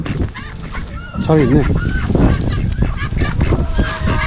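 Native Korean chickens in a snowy winter coop cluck and squawk continuously nearby, with a person speaking briefly over the birds.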